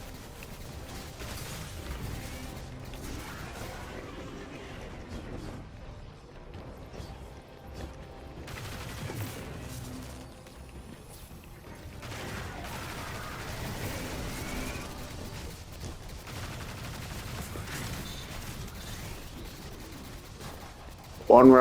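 In the Destiny 2 video game, enemy gunfire keeps shooting at the player in dense, repeated bursts with mechanical clatter and impacts, steady and fairly loud across the whole stretch, a sharper blast at the very end.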